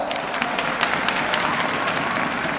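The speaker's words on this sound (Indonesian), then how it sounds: "Aplaus sekali lagi buat beliau." An audience at a corporate anniversary event in Indonesia applauds a speaker, a dense burst of many hands clapping at moderate volume over the full span, with a few sharper claps standing out.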